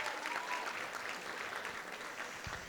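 An audience at a jazz evening event applauds for Toni and chef Jocelyn Jackson. The dense, even clapping carries at moderate volume from a room-sized crowd and continues throughout.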